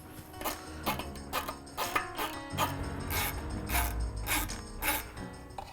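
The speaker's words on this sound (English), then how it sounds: "Reinstall your two bolts." A ratchet tightening the two mounting bolts on a Mishimoto aluminum coolant expansion tank: close, repeated bursts of rapid mechanical clicking with short pauses between strokes, and no talking.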